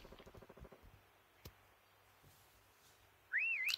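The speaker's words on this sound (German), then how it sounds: "jetzt kommt aber gleich der Pfiff" A single sharp, rising-and-falling whistle in the mobile shooter game Call of Duty Mobile sounds near the end, loud and brief, after quiet game ambience with some rhythmic tapping at the start.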